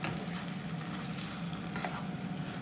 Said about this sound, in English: So basically you just stir frying the chicken.